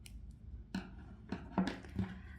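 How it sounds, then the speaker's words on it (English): Scissors snip through crochet yarn while making a small amigurumi bunny, giving three or four quick, close clicks spaced unevenly over a low background hum. "cut the yarn"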